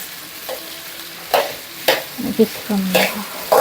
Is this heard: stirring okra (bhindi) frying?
yes